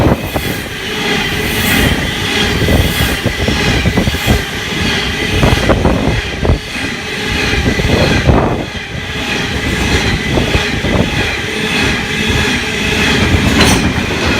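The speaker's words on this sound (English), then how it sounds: "TT101 is the trailing locomotive. It is a limestone train." A limestone freight train hauled by locomotives rolls past close by, with loud continuous rumbling and repeated clattering of wagon wheels over the rails throughout.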